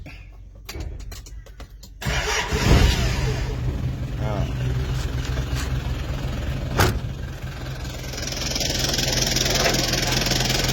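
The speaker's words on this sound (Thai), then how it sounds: "เดี๋ยวมาฟังเสียงเครื่องนะพี่" A 1990 Nissan Big M pickup's BD25 diesel engine cranks and starts, then settles into a steady rumbling idle, with a person speaking briefly nearby.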